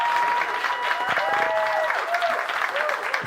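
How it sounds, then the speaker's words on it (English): Applause rolls through an audience at the OpenAI GPT-4o launch, steady and fairly loud, while a voice talks over it. "Can we clap after they've said why it's good?"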